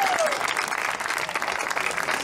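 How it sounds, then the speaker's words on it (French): Outdoor crowd at a village entertainment event in Spézet clapping steadily and loudly, with a brief whistle at the start. "On peut l'applaudir bien fort."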